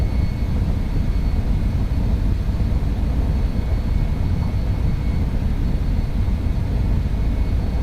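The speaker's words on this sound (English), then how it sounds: "Here comes the V1 long takeoff roll." Steady, loud jet engine roar of an MD-11 during its takeoff roll in X-Plane 12, a continuous broadband rumble with no breaks and no talking.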